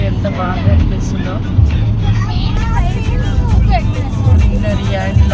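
Heavy lorries rumble past on a road lined with greenery, a steady loud engine drone with swelling passes, heard from a moving vehicle while people talk over it.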